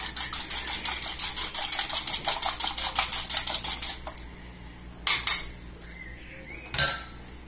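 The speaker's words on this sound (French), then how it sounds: "Alors avec la petite cuillère magique, c'est sympa de le battre." A small spoon beats an egg in a bowl, making a quick, steady run of close, bright clinks for about four seconds, then a pause broken by a couple of short scraping taps.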